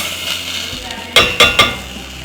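Sugar poured into a pan for a chocolate glaze, three quick close grainy pours landing in a row over quiet kitchen background.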